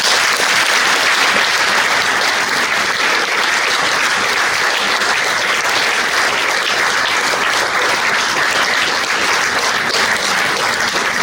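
A ceremony audience at the Pelmo d'Oro award gives a priest sustained, loud applause for the alpine culture prize, thick continuous clapping that holds steady for the whole stretch.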